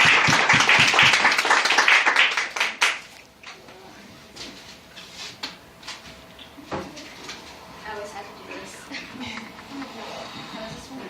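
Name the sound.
round of applause for a poet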